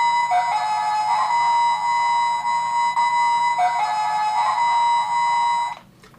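Mint-in-box 1993 Mighty Morphin Power Rangers Dragon Dagger toy giving a steady, tinny electronic tone with a warbling siren-like pitch, loud and close for about six seconds before cutting off.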